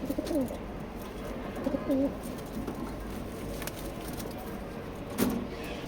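A male racing pigeon gives several short, close coos in bursts, with a faint car passing in the background.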